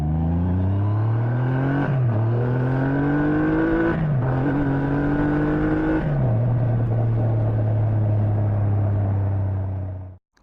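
A Triumph Rocket 3 GT motorcycle, the 2020 model, revs hard and loud up close, rising through three quick gear pulls before settling into a steady deep drone that cuts off abruptly at the end.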